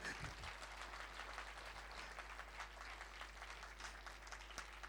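Audience applause at a music and dance performance event, a steady faint wash of many hands clapping throughout, heard from a distance with no talk.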